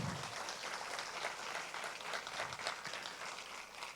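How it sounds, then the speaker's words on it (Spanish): A crowd at a conference in Medellín applauds with steady, dense clapping, fairly faint and distant, sustained throughout without voices. "Vamos a regalarles un fuerte aplauso"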